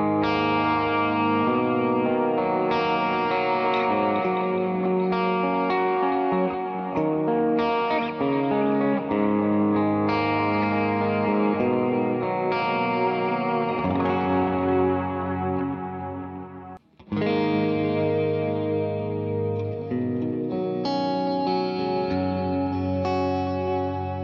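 A clean electric guitar tone from a multi-effects preset, played on an SSH-pickup guitar, with a shimmer of chorus and echo. Phrases ring out steadily and clearly, broken by a brief gap about two-thirds of the way through.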